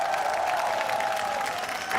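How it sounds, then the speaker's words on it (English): An audience applauding a video game team at an ROV match, a steady dense wash of clapping held for a couple of seconds, with a faint tone running underneath. "Round of applause for Spandauer Inferno."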